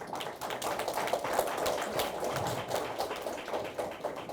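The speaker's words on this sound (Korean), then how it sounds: "우리 아브라함에게 큰 박수를 한번 보냅시다" Congregation applause during a lecture on blessed family rites, a dense steady patter of many hands clapping together at moderate volume for several seconds.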